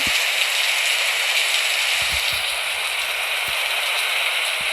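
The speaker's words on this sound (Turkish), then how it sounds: "Yağmur yağmurlu bir günde." Steady rain pours down on a rainy day, a dense continuous hiss with occasional louder drops or taps standing out, no talking.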